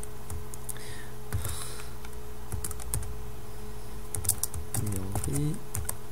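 Computer keyboard keys clatter in quick, irregular bursts while an e-mail message is typed, close and moderately loud over a steady low hum, with a brief voice rising near the end.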